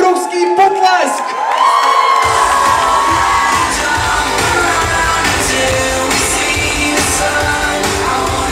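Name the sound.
crowd applauding and cheering at a graduation sash ceremony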